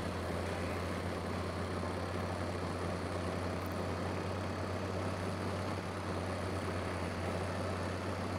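A tractor engine in the farming game Farming Simulator 15 drones steadily at idle, a deep low hum with a constant rumble and no speech over it.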